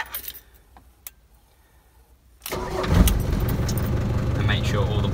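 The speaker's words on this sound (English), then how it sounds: "start the engine" A car engine cranks and catches partway through, rising abruptly from near silence into a steady idle that continues to the end, during pre-MOT inspection checks.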